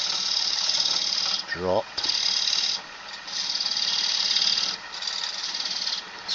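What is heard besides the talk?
woodturning gouge cutting wood on a lathe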